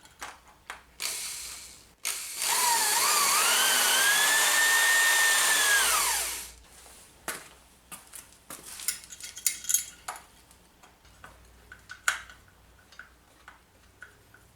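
A power drill bores a hole to mount a seat on a Raleigh Chopper Mark 2 bicycle, a loud whine lasting about four seconds that rises and dips in pitch, surrounded by clicks, taps and handling clatter.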